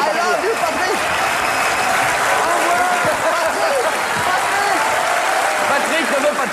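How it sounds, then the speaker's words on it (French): A TV studio audience applauds steadily and loudly throughout, a dense wash of clapping with a voice or two calling out over it. "vous pouvez l'applaudir"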